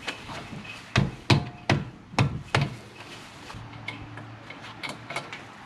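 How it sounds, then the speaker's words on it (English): Wrench working a brake caliper bolt on a 2012 Acura TSX Special Edition, a handful of sharp metallic clicks and knocks in an uneven burst, close and fairly quiet, with softer ticks trailing off. "So now we're going to go ahead and we're going to loosen this top bolt."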